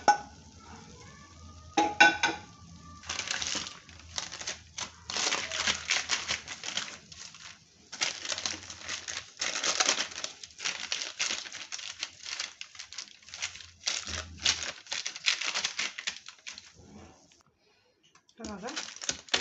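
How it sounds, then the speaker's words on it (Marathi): Thick, hot Mysore pak made with ghee scraped and poured from a pan onto a plate and spread out, giving irregular bursts of scraping, sticky patter and utensil clatter with quiet gaps between them. "म्हैसूर पाक आपला प्लेटीत टाकते मी"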